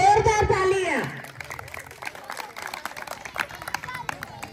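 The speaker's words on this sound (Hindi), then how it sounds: "इनके लिए जोरदार तालियां।" Crowd at an Independence Day celebration in Chandrapur, Maharashtra, clapping in scattered, uneven bursts after a loud voice over the first second, with chatter underneath.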